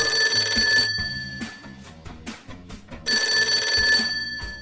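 A telephone bell rings in two loud bursts in an animated Spider-Man story, the first lasting about a second and the second returning near the end, with lively cartoon music playing throughout.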